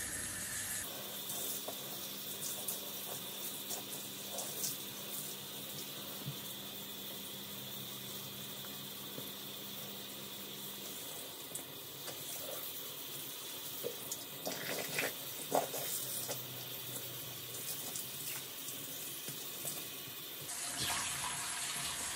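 A tap runs steadily into a sink while the basin is wiped after hair dyeing, a continuous close hiss of flowing water with faint rubbing and scraping underneath, ending abruptly as it stops.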